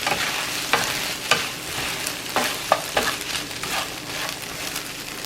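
Potatoes sizzle steadily in a frying pan while a utensil stirs them, scraping and clicking against the pan at irregular intervals, close and fairly loud with no talking.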